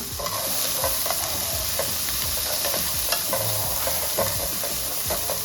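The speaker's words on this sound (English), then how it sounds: "Okay, I'm going to saute some sweet corn." Sweet corn kernels sautéing in a hot pan, a steady dense sizzle with repeated scraping and clicking stir strokes throughout, close and continuous with no talking.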